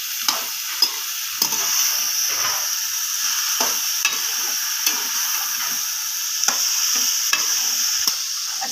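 Vegetables for vegetable rice fry in a pan, giving a constant bright sizzle broken by repeated sharp taps and scrapes of a stirring utensil against the pan, close and loud with no talking.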